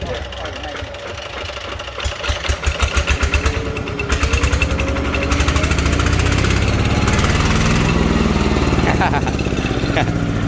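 A Yanmar 120 engine starts with a loose, chugging knock, then the throttle is opened into a loud, steady, buzzing roar that holds close and strong to the end.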